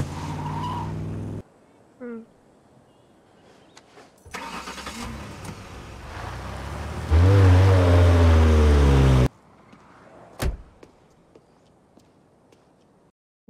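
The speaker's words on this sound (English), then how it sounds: "That is a car that is on a mission." Car speeding off in a Better Call Saul scene, engine revving hard with a loud tire screech building to a sustained roar, set among quieter TV sounds and brief voices.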